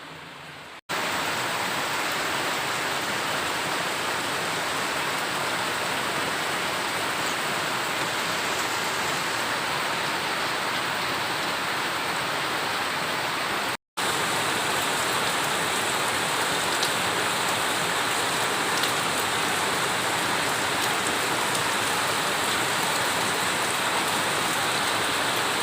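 Heavy rain pours steadily and loudly during an orange rainfall warning in Gingoog City, a dense continuous hiss broken only by a brief dropout partway through, with no voices.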